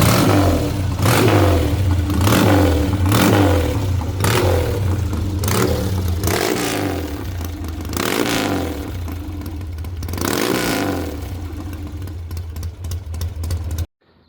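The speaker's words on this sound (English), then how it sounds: "Do a couple more revs because I have a different mic now." A 1966 Triumph TR6SC Desert Sled motorcycle engine revs up and down in repeated loud blips close by, with rising and falling pitch between short idle stretches, ending abruptly.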